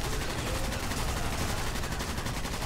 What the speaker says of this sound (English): that was an assault rifle